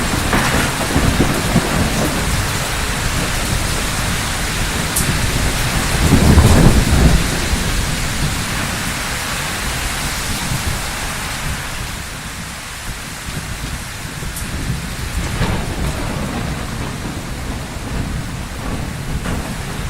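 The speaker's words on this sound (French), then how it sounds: "Un orage s'annonce." A thunderstorm over a garden: steady heavy rain patters on surfaces while low thunder rolls and swells in the middle, then eases back into the continuous downpour, with no voices.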